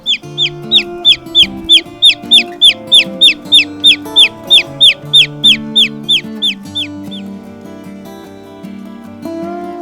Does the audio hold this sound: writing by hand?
no